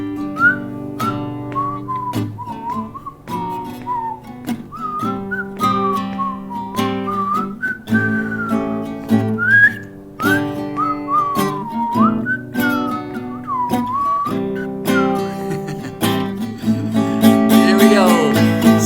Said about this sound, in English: I'll do some whistling too